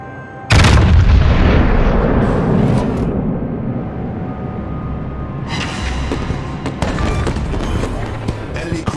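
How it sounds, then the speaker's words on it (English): A battleship Vermont firing its main guns in a naval video game: one sudden, massive booming salvo that rolls into a long heavy rumble, with sharper crackling reports later on. "Stations requesting fire on the designated target."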